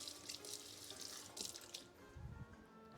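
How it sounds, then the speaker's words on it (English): Kitchen tap water runs while a blender blade is rinsed, a faint splashing, trickling stream with brief bursts of spray as the blade passes under it, fairly quiet and close. "let me rinse this off"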